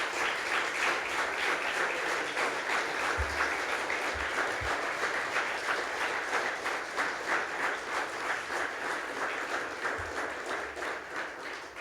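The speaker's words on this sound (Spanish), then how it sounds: "Dale un aplauso al Señor, hermano." A church congregation applauding the Lord during a Spanish-language sermon, sustained rhythmic clapping from many hands filling the room at moderate loudness, with a few low thumps along the way.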